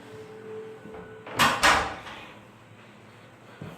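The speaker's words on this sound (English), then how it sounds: "Wait, let me close this door." A door pushed shut indoors in a home, giving a pair of close, sharp thuds with a brief rattle in quick succession, then a quiet room tone with a small knock near the end.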